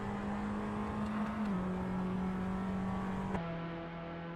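Race car engine in a racing video game at the Baku circuit, a steady high whine held on the power that steps down slightly as it shifts, continuous and even, no voices.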